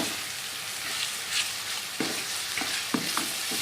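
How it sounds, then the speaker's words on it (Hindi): Minced mutton keema frying in oil in a karahi over a high flame, a steady close sizzle with a few sharp scrapes and clanks of a spoon stirring through it. "फ्लेम करनी है हमने तेज़। अब तो ये कीमा बस हमारा रेडी हो जाएगा।"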